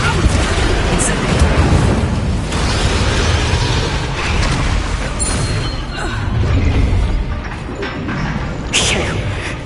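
Fiery spell blasts from a Harry Potter video game, with rumbling booms and crackling bursts filling the mix continuously under game dialogue and a player's voice.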